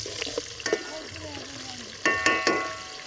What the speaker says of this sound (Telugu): ఇప్పుడు ఉల్లిగడ్డ నూనె గరం అయింది, ఉల్లిగడ్డ వేస్తున్నాం ఫ్రెండ్స్.